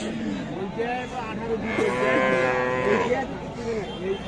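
A calf moos loudly and close by, one long drawn-out call, amid the background murmur of a busy cattle market.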